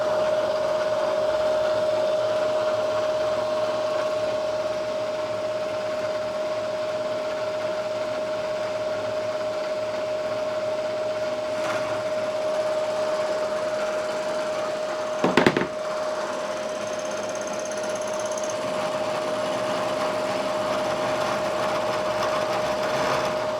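A steady machining whine with a sustained tonal hum runs throughout as a CNMG boring bar faces off metal on a PT3 machine, broken by one brief clunk partway through.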